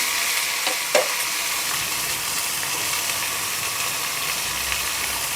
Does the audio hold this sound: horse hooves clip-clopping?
no